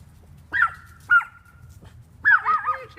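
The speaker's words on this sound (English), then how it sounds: "Stop that male dog." A male dog barking nearby, three sharp, loud barks in a short burst, with quiet pauses between them and no talk.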